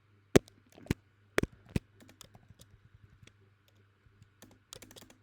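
Someone types code on a computer keyboard in quiet bursts, close sharp clacks with a few louder key strikes and a soft background hum.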